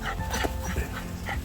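An elderly Jack Russell terrier vocalizes with short whimpering yips and soft barks amid a noisy, cluttered background, fairly close and continuous over a brief stretch.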